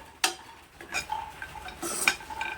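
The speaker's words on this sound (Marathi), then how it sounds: "हे मनुके आणि काळे मनुके आणि पांढरे म्हणजे मनुके आपल्याला व्यवस्थित असे भाजून घ्यायचे" Raisins, black and golden, roast in ghee in a pan, stirred with a utensil that scrapes and clinks against the metal in a few distinct strokes over a faint low sizzle, close by with no talk.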